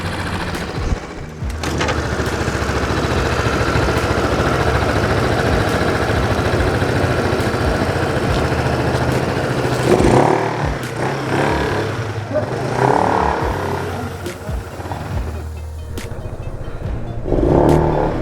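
A 2016 Yamaha Zuma 125 scooter with its airbox removed runs and rides off, its small engine producing a steady, buzzing drone that stays loud and close, swelling briefly as the throttle changes.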